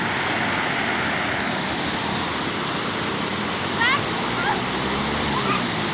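Water flows in a forest stream near Ban Khok Sawang, Buriram, Thailand. A steady, close rushing wash fills the whole stretch, with a few faint brief sounds over it.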